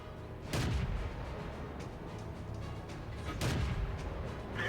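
Two booming tank destroyer cannon shots ring out a few seconds apart in World of Tanks, each a sharp blast with a rolling low tail over steady battle ambience while a KV-1 is finished off.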